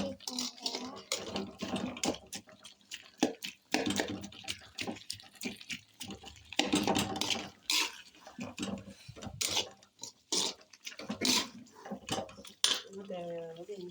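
Stirring and sautéing in a pan, with frequent close metallic clinks and scrapes of a spoon against the pan and a soft cooking hiss; a voice can be heard at times.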